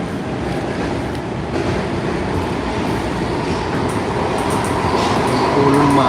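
A red line metro train heads toward Shady Road, California, with a steady loud rumble of rail cars that continues without a break.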